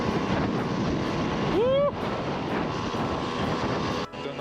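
Strong wind buffets the microphone during a moped ride across Norway, a loud constant roar with a steady engine hum beneath it, broken near the middle by a brief rising whine and a short dip near the end.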